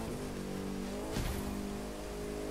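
Bugatti Chiron engine in The Crew 2 racing game holds a steady, loud drone with engine harmonics throughout, plus a brief burst of tire noise near the middle, with no talk.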